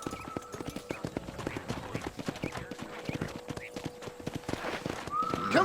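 Horse hooves clip-clop steadily in a ranch corral in the Red Dead Redemption video game, a continuous quick rhythm of hoofbeats at moderate distance with a brief whinny-like sound at the end.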